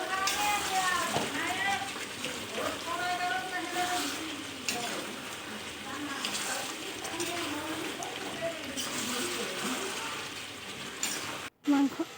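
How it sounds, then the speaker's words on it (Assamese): Meat and potato chunks sizzle in a pan as they are stirred, with a steady bright frying hiss and scraping strokes throughout and someone speaking over the cooking. "এয়া এইফালে মাংস আলু ভাজি আছিলোঁ যে, অকণমান ভালকৈ আকৌ লৰাই দিম।"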